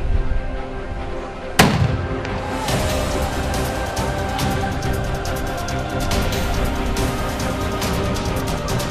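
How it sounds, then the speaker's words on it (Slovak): A cannon fires a single sharp, loud boom at a historical fencing show, followed by a dense wash of crowd noise and outdoor background sound that continues steadily. "s výstrelmi z diela."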